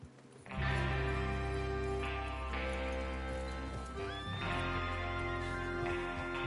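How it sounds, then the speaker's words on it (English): Horses neigh and whinny loudly in a PS4 western game, with clip-clop hooves and a steady in-game music bed underneath, the calls rising clearly above it. "Get your horses ready."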